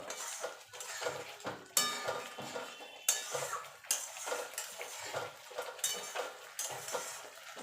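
Eggs cooking in a pan for a Bengali egg curry, with a spatula repeatedly scraping and clinking against the pan in a steady rhythm over a faint sizzle, close and moderately quiet.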